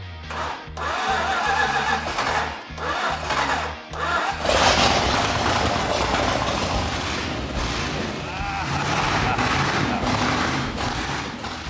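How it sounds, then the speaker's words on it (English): A Ford Pinto engine in a custom garage cranks over in a series of rapid, choppy bursts. It then catches and settles into a loud, continuous, rough-running idle close to the listener. "I've heard a lot of engines run, and this is on par with the rest of my half-baked ideas"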